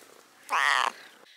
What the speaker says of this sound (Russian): Ты хочешь мне мяу показать?